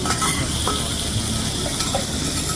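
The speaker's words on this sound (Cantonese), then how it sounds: "雞扒都要煎到脆脆" Chicken steak sizzles skin-side down on a hot teppanyaki griddle, a steady close hiss of frying fat with faint crackles running through the whole stretch.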